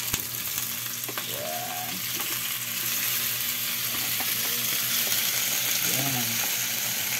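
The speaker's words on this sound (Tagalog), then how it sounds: "Gigisa natin yung ating pagi." Pieces of stingray sauté in a hot pan, giving a steady, close sizzle and frying hiss with occasional stirring scrapes, and a voice speaks briefly over it.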